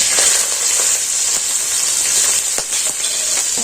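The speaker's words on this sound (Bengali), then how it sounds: "দিয়ে দিচ্ছি তেল দিয়ে দিচ্ছি গোটা জিরে দিয়ে দিচ্ছি আদা বাটা আর কাঁচা লঙ্কা কুচি" Whole cumin, ginger paste and chopped green chillies frying in hot oil, a steady loud sizzle and hiss throughout with faint stirring clicks, no talking.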